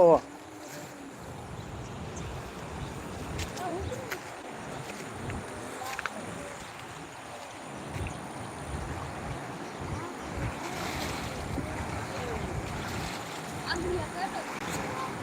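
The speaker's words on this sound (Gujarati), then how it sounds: "જોઈ લ્યો પાણી હાલે જો" The flooded Machchhu river in Morbi rushes past in a broad, steady churning wash, buffeted by gusts of wind, with people talking faintly nearby.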